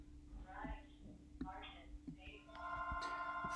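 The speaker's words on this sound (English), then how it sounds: "That's the phone." A telephone rings near the end with a steady electronic ring tone that starts after a voice and continues, faint under a low background hum.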